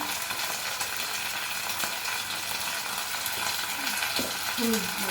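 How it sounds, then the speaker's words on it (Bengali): Ginger-garlic paste, chilli and cumin powder sizzle steadily in hot oil while being stirred in a pan for sweet, hot and sour chole, making a continuous close hiss with occasional scraping clinks. "লঙ্কা দিলাম, একটু জিরার গুঁড়ো দিলাম,"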